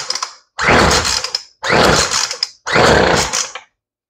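Three strong pulls on a weed eater's starter cord, each a rough, rasping burst about a second long separated by short pauses, as the engine, which has trouble starting because of its carburetor, briefly catches and sputters.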